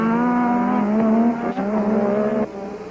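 Formula 1 cars race at the Canadian Grand Prix as Piquet overtakes Prost: loud, sustained high-revving engine whine that shifts pitch as the cars pass, then drops away abruptly near the end.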